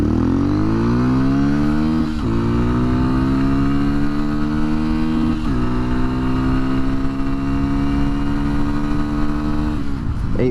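A Honda XR150L motorcycle with the stock sprocket accelerates hard from standstill to 40, its close engine note rising through the revs with clear dips at each gear change.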